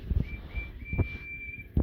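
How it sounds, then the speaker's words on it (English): A steam engine's whistle gives a single steady high tone lasting over a second, with soft thumps and bumps underneath and no talk. "He whistled hello to Harry and Bert."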